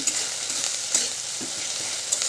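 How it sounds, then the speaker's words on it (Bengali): Onion, garlic and ginger paste fries in a pan with garam masala, giving a steady close sizzle with occasional scraping stirs. "সব কিছুকে এবার ভালো করে একটু ভেজে নিচ্ছি।"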